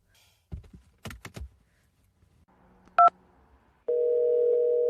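After a few dull knocks and a short electronic beep, a telephone line gives a loud, steady ringing tone that runs on unanswered until the end.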